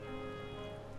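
Steady rain falls in Final Fantasy XIV: Shadowbringers, a soft continuous patter beneath a droning musical backdrop, faint and even throughout.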